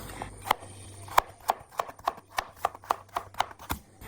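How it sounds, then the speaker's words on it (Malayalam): Carrots being chopped with a knife for a vegetable kurma curry, a steady run of about a dozen sharp, close knife strikes on a cutting board, evenly spaced, with no talking. "ആദ്യം തന്നെ നമുക്ക് ക്യാരറ്റൊക്കെ ഒന്ന് അരിഞ്ഞെടുക്കാം."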